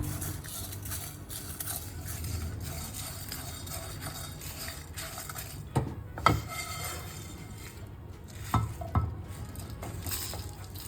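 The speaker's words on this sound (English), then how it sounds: "let's dry roast all the spices" Whole spices including fennel, coriander, cumin, black pepper, dried chillies, cinnamon, clove and cardamom dry roasting in a pan, a soft steady rustle with a few louder scrapes of stirring.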